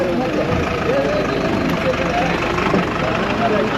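A loaded goods vehicle idles with a steady low engine rumble at the muddy, rain-soaked Pollachi cattle market, heard nearby and continuously with faint crowd voices mixed in.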